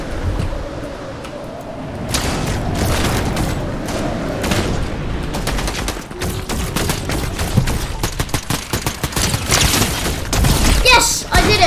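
Rapid bursts of sideways-rifle gunfire in a Fortnite match crackle in dense volleys with booming shots, loud and nearly continuous, with game action mixed in and no talk over them.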